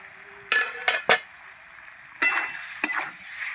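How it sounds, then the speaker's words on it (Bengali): Dry aloo dum potatoes, cooked without water, being stirred in a pot: a handful of scattered metallic scrapes and clanks from a spoon against the pot, with quiet gaps between them. "নাড়িয়ে দেবো।"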